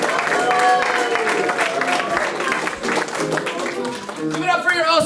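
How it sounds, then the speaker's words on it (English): A comedy club crowd applauds for comedian Rich Gomez, with dense, steady clapping running loud throughout over music, and voices mixed in. "Start clapping, start clapping, start clapping."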